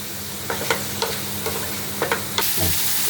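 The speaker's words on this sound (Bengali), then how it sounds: "কিছুক্ষণ আমি মশলাটা কষিয়ে নেব" Chilli powder and ground spices fry and get stirred in hot oil, with a low steady sizzle broken by a handful of brief scraping strokes of the spoon, close up and with no talk.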